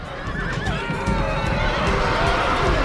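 Horses neigh and whinny amid galloping hooves and a battle din in the video game Total War: Rome Remastered, a dense, steady and loud mix with cavalry clashing against infantry.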